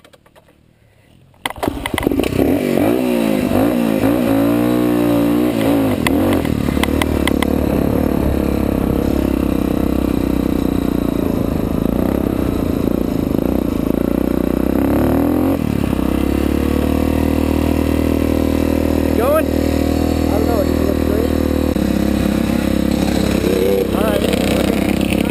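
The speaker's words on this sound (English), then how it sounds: "As soon as I turn the bike on," A dirt bike fires up at a gravel pit: a brief quiet start, then the engine catches and settles into a loud, steady idle with several throttle blips and revs rising and falling, heard close up.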